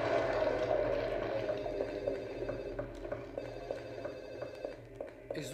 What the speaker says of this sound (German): Trotzdem ist es ein Bug, dass das Telefon immer noch klingelt.